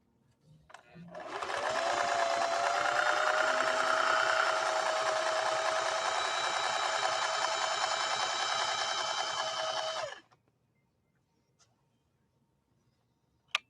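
A 1961 Singer 401A sewing machine runs a decorative stitch through leather about 3 to 4 ounces thick, a steady close whir that holds for about eight seconds and then stops abruptly, with no talk over it.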